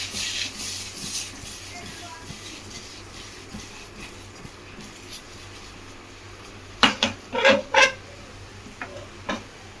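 Salted kodiguddu chemadumpala pulusu, a Telugu-style curry of eggs and taro root, gets stirred in a pot with soft shuffling and scraping, then a short run of sharp clinks and taps near the end.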